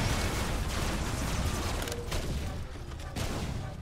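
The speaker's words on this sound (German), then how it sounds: "Ups, der erste Schuss geht daneben." A burst of weapon fire in the vehicle-building combat game Robocraft, loud, dense and continuous for several seconds, with mechanical rattling under the blasts.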